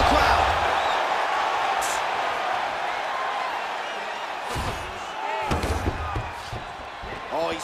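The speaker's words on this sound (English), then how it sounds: "Double leg shot. Oh, slams his opponent to the ground." In UFC 4, fighter Jared Cannonier or Derek Brunson lands a double leg takedown and slams his opponent to the mat, heavy thuds under continuous excited commentary with a crowd murmuring behind.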